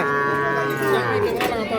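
A calf moos loudly and close by at a cattle market selling young bulls and heifer calves, one long drawn-out lowing call over a busy crowd background.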